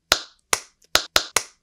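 Five sharp, close hand claps ring out in an uneven sequence against silence, each one a crisp isolated crack.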